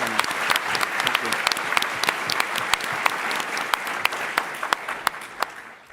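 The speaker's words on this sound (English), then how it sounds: "Give them a round of applause." An audience at a startup pitch competition final breaks into dense, sustained applause, many hands clapping at once with sharp individual claps standing out, fading slightly toward the end.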